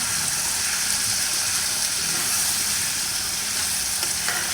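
Turmeric and coriander powder fry with potatoes and tomatoes in a hot pan, a loud, dense, continuous sizzle with faint stirring texture throughout and no one talking.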